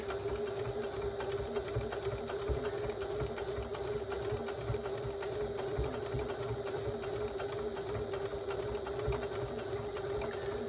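A sewing machine stitches slowly through thick straps of a 1941-pattern gasmask bag, producing a steady, even needle chatter with a constant motor hum, close and unbroken throughout.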